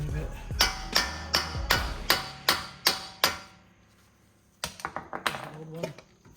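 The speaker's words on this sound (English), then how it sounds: "Probably need to tap that just a little bit." A hammer taps a CV axle into place on a 2013 Nissan Altima, about eight sharp evenly spaced metallic knocks, then a pause and a quicker burst of lighter taps, all close.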